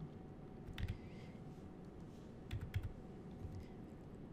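Quiet typing on a computer keyboard during 3D modeling work, a few soft key taps in small clusters over a low steady hum, fairly faint and with no voices.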